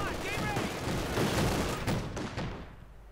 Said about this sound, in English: Shots going off there on the M20, or the 222. 50 caliber shots, BAR shots.